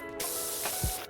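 Pressure washer from Powerwash Simulator 2 rinsing soap off: a brief burst of close, bright, hissing water spray that starts abruptly and holds for about a second.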